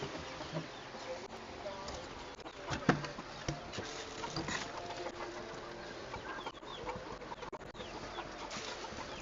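Around fifty chickens in a coop cluck and murmur steadily at a moderate distance, with a continuous buzz of insects and occasional sharper calls, no clear speech.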